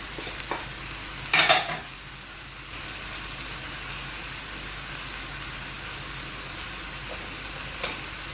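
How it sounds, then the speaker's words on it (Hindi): Masala chicken frying in a pan with tomatoes, salt, chillies and garam masala added, giving a steady close sizzle with a short louder burst of stirring early on. "अभी मैं इसमें टमाटर डाल दूंगी, और नमक, मिर्चें और ये गरम मसाला सब कुछ अभी जाएगा"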